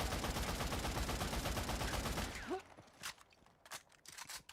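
Rapid automatic gunfire from a shooter video game, likely an AK, fills the first half in a dense loud burst, then stops, leaving a few sparse distant shots and clicks.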